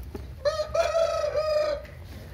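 A large Índio Gigante hen or rooster on a small farm gives one long, harmonic crow or drawn-out call lasting over a second. It sounds fairly close and clear over a low rumbling outdoor background.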